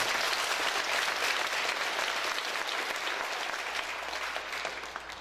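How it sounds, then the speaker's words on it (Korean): A church congregation applauding during a Korean service honoring retiring elders, sustained even clapping from many hands that gradually softens toward the end. "박수하겠습니다."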